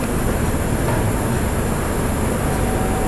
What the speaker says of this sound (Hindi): कानपुर के बाद में ये ट्रेन अपनी मैक्स स्पीड 130 की स्पीड पर चलती है